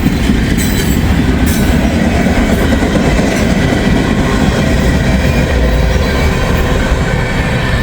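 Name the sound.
freight train passing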